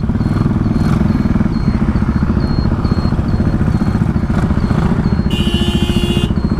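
A motorcycle engine rumbles close by with a steady throbbing idle, amid traffic noise and a brief higher whine near the end.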